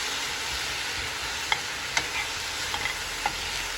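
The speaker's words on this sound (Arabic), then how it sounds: "يعني كل شوية أعطيه هيك معلقة من المية عشان ياخد اللون كرملة بتاعت البصل" Onions caramelizing in a pan with spoonfuls of water added, giving a steady soft sizzle with a few faint clicks of the spoon, close and alone.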